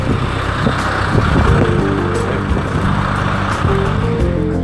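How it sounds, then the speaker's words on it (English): A lorry's engine rumbles during a brake test at a truck workshop, a steady, loud, close drone with low harmonic tones that shift slightly. No one speaks. "brake test on this fine lorry."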